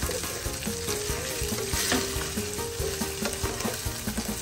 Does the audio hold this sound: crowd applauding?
no